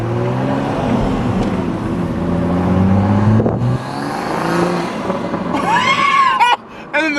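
Manual 2023 Toyota Supra with an aftermarket intake and catless downpipe revs and accelerates, its engine rising then cutting off into loud turbo flutter and chirping bursts near the end, close to the microphone.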